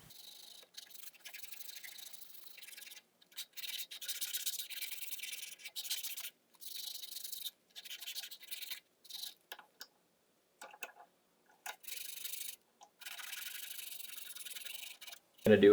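Hand sanding a carved crankbait lure, an imitation of an original Rapala, with 120 grit sandpaper: short, close, scratchy strokes in irregular bursts separated by brief pauses, with no talking.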